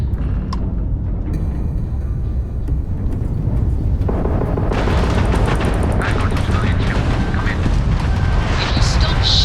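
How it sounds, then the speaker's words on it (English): Ship weapons fire and explosions in the video game Starfield: heavy booms and gunfire-like blasts, dense and loud throughout, growing more intense partway through, with bright crackling bursts under a continuous roar. "The ship's weapons are powering up."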